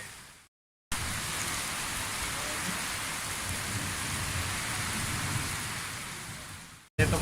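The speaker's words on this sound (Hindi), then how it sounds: "देखें कितनी ज़ोरों शोर से बारिश हो रही है" Heavy rain pours down in a dense, steady roar, starting after a brief gap of silence and continuing loud and unbroken.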